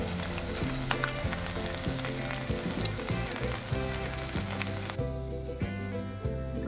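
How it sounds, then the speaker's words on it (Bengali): Pasta sizzling and frying in a pan as its spice mix is stirred in, a steady close crackle running under faint background music. "এইবার দিচ্ছি এই যে পাস্তার মধ্যে যে মশলাটা ছিল সেটা এবার দিয়ে দিচ্ছি।"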